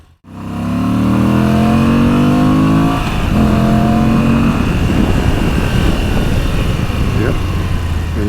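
A Moto Guzzi V85 TT motorcycle engine revs up from a standstill, a loud close drone climbing steadily in pitch, shifting gear around three seconds, then pulling on with rising wind and road noise.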